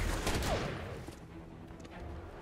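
Gunfire in the mobile game Marvel Strike Force: a dense burst of rapid shots over a loud game mix, fading slightly after the first second.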